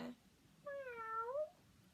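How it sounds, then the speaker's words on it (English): A single domestic cat gives one clear, drawn-out meow lasting under a second, rising then falling in pitch, close and alone against a quiet room. "It is a cat."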